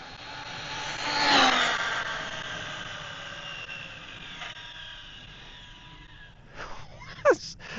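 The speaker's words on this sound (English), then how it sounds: "It's amazing, an electric car is that loud." An Arrma Felony electric RC car screams past with a high whining motor, swelling loud as it nears, then fading into the distance before a few short bursts of revving close by.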